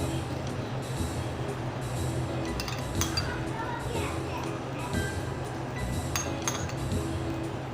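A spoon clinks against drinking glasses as yogurt cream (malai) is spooned onto Amritsari Punjabi lassi, giving a few light, bright taps over a steady low kitchen hum.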